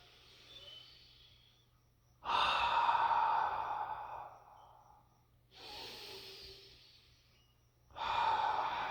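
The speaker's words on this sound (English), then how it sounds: "Two more breaths here." Slow, deep yoga breathing during a root chakra practice, with long audible exhales and inhales rising and fading in a steady rhythm, close and fairly soft against a quiet room hum.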